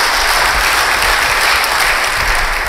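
A congregation at a church worship service applauds loudly and continuously, a thick, even wash of clapping that holds its level throughout without any voices on top.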